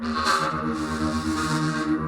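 A dense, sustained synth tone with a smeared, washed-out texture from a blur effect in Bitwig, steady and loud throughout, with no voices.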